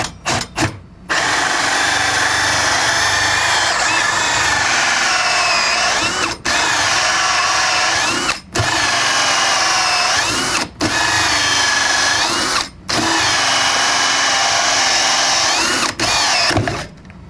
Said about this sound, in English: I had to back that out a bunch of times and put a lot of pressure just to get that hole drilled